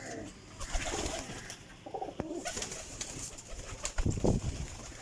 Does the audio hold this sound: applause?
no